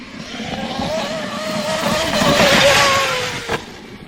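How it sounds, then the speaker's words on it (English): A Traxxas or Losi RC car's electric motor whines and shifts pitch as it races nearby, then a sharp, sudden knock marks its front bumper slamming into something near the end. "That sounds like a big hit on the front bumper."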